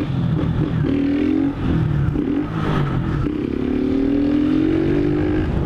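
A motorcycle engine revs and runs close by, loud and steady for several seconds with rising and falling tones and some clatter, with no talk over it.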